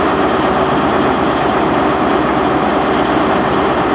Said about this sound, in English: that's the sound of an iconic British Railways design multiple unit